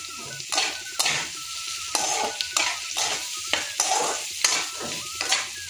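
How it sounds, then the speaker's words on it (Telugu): Onion and capsicum pieces sizzling in a pan while a spoon stirs them, steady frying hiss broken by repeated scraping strokes every half second or so, close and clear with no talking. "ఆనియన్ టపల్స్ చాలా త్వరగా వేగిపోతాయి."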